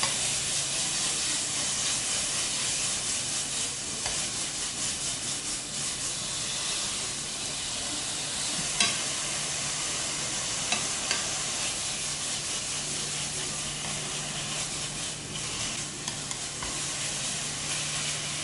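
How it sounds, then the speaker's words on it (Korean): Bulgogi stir-fries in a hot pan with a loud, continuous sizzle and hiss, and occasional clicks and scrapes from stirring. "먼저 팬에 불고기를 좀 볶아주셔야"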